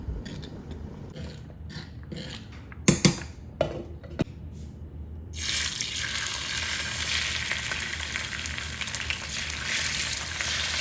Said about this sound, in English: So I'm just gonna go ahead and give it a stir.